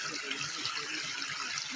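Water rushes steadily from a stream running around a house, a continuous close hiss and gurgle with no pauses.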